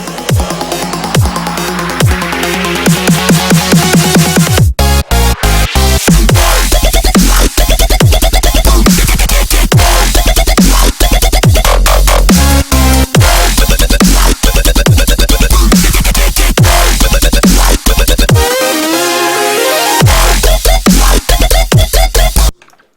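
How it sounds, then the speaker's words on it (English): Serum synthesizer presets play as a dense electronic track with chords, leads and heavy bass under added drums, loud and continuous with rapid repeated hits and stutter cuts, briefly dropping out near the end before the full mix returns. "the preset sounds something like this. So this is all Serum, all the presets that are in the pack, and some added drums"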